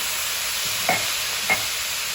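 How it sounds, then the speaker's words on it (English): Tofu sizzles steadily in a pan on high heat, a constant bright hiss broken by two soft clinks of a utensil. "Ooh, that nice sizzle."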